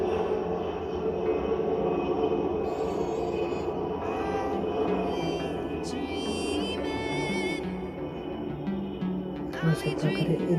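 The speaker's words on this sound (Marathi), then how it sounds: "विमान गेलं गाईज वरतून" An airplane passes overhead as a low, broad, steady rumble that fills the whole stretch, fairly even in loudness with no clear rise or fade.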